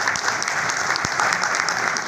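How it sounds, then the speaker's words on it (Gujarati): An audience of school principals claps for the chairman and team at an education dialogue event, a short burst of dense, even applause filling the hall with no talk. "સમગ્ર ટીમ માટે એક જોરદાર તાળીઓ."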